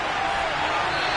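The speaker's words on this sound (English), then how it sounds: "You can already start to hear this crowd." A football stadium crowd roars in a dense, steady wash of cheering through the whole brief moment, loud and close, with a voice talking over it.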